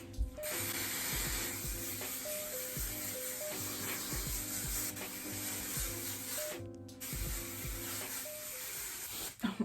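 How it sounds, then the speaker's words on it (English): Hairspray hisses in a long steady burst close to the microphone, briefly stopping and starting again, with music playing underneath. "we're gonna spray this nicely, making sure we get plenty of hairspray throughout the hair"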